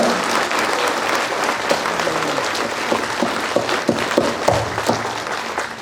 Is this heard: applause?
yes